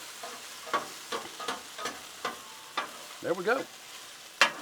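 Potatoes being stirred as they fry on a Blackstone griddle, with a series of scraping spatula strokes over a steady sizzle; a voice speaks briefly near the end.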